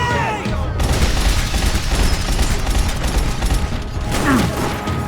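Loud, dense gunfire in the video game Max Payne 3, a continuous torrent of shots mixed with clattering debris of flying paper stacks and mechanical noise.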